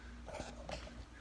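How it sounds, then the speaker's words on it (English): Two quiet, muffled barks from a poodle sound some distance away against a low background hum. "And the poodle's barking again."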